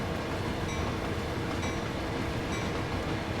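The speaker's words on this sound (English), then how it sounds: "Because I guess this speed is good enough for us since we want to stop the train." Rolling train in the Train Sim World 4 game, a steady rumble of wheels and rail noise with faint high squeals, continuous and close throughout, with no voices.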